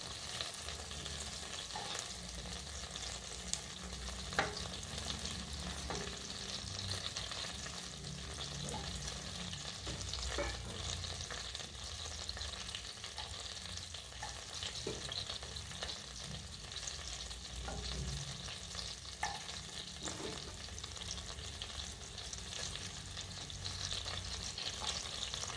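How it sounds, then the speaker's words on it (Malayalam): Finely chopped garlic frying in butter over a low flame and being stirred, with a steady, even sizzle that runs throughout alongside occasional scraping stir sounds. "ആ ബട്ടറിലേക്ക് നമ്മൾ ചെറുതായിട്ട് അരിഞ്ഞ് വെളുത്തുള്ളി ചേർത്ത് കൊടുക്കുന്നു."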